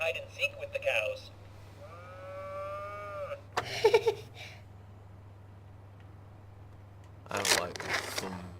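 Cartoonish cow moos from the video game That Dragon, Cancer ring out in a few separate bursts, one a long wavering low, over a steady background hum.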